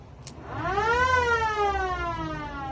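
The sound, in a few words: old-school siren wired into a 1965 Buick Riviera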